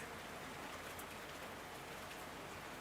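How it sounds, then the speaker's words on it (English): Heavy rain pours outside an open window, a steady, even hiss of falling water that continues unbroken throughout with no voices. "It's absolutely bucketing down here."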